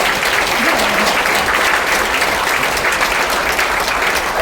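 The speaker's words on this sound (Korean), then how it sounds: "박수 한번 부탁드립니다" An audience at a memoir book launch event at the National Assembly Museum claps steadily, a dense, loud wash of applause that holds evenly throughout with a voice faintly underneath.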